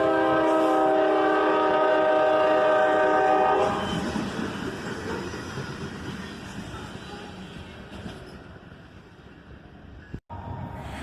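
A local train without a caboose passes on a midsummer day, its horn sounding in long sustained blasts for the first few seconds before giving way to steady rumbling wheel and car noise that carries on to the end.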